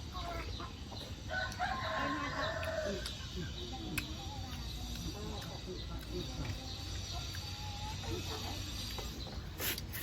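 A rooster crows amid other fowl clucking nearby, the calls rising over quiet background noise while people talk.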